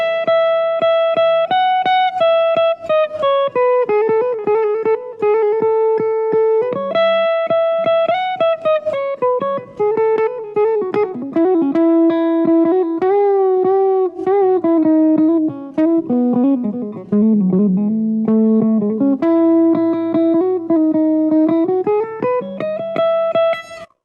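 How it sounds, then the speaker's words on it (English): An electric guitar on humbucker pickups plays a melodic solo line with sustained, singing notes, bends and quicker runs, thick, mid-heavy and slightly overdriven, with no voices. "let's try that solo lick and see what that sounds like on these humbuckers"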